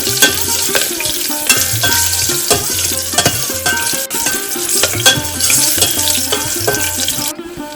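Green chillies slit lengthwise fry in hot oil for a Maharashtrian katachi aamti, giving a steady close sizzle with rhythmic stirring and utensil scrapes throughout, no voices.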